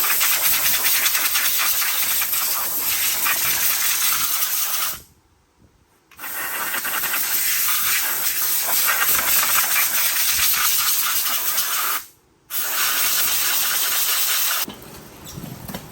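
Compressed air blasting across new parts on a Honda Fourtrax 300 ATV, a loud continuous hiss that cuts out twice briefly before resuming, with no talk over it.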